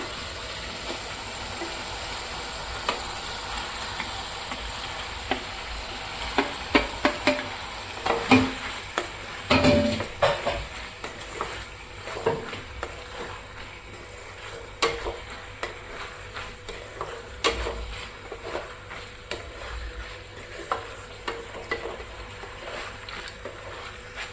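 Macaroni pasta is stirred into a pan of cooked-down tomatoes, giving a soft, steady sizzle broken by scraping spoon strokes and clacks against the pan, near and fairly quiet.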